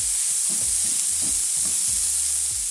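Bacon frying in a pan, a dense, loud, steady hiss of sizzling fat with faint rhythmic stirring scrapes underneath, heard up close without talk.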